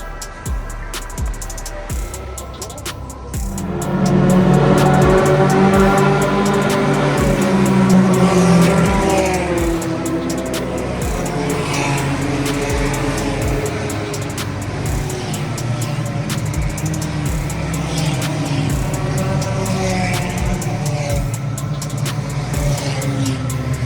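Race cars on the Interlagos circuit: after a quieter start, a loud burst of multiple engines revving and accelerating together, then a sustained, dense roar of cars at speed with overlapping whines and occasional passing swells.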